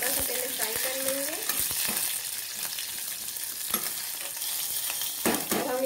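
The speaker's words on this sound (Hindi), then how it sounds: "अब हम इसमें हरी मिर्ची और लहसुन डाल देंगे, हमने लंबे लंबे टुकड़ों में काट रखा था। इसको थोड़ा सा पहले फ्राई कर लेंगे।" Long-cut green chillies and garlic frying in a pan, a steady bright sizzle with occasional ladle scrapes and taps, close and without speech.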